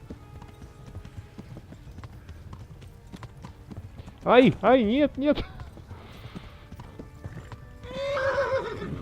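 Horse in the medieval game Kingdom Come: Deliverance gives a loud, close whinny with a couple of neighing bursts over steady hoof clip-clop, while someone talks and exclaims in between.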